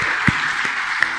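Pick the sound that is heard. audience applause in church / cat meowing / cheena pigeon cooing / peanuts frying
audience applause in church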